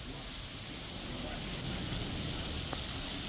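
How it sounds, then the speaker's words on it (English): Heavy rain pouring down outside an open garage door, a dense, steady hiss of drops drumming on surfaces, continuous and fairly loud throughout with no voices. "getting a little bit of water ingress just from the aggression of the rain"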